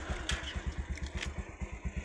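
A motorcycle engine idles or runs with a steady, rhythmic low putter, close by and loud, with no talk over it.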